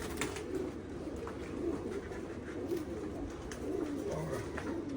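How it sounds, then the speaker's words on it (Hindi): Soft, low coos of Jamuni pigeons repeat over a constant murky background hum, with no talking. "ये जामनी कबूतर हैं,"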